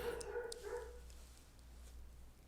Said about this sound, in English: It's just a barking dog.